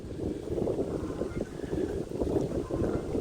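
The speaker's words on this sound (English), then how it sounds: "we got steady wind at like 10 miles an hour, gusting to 20" Steady wind gusting outdoors beside a lake at a cabin on a fishing trip, a continuous rumbling buffet of wind noise across the microphone that rises and falls in gusts, with no talking.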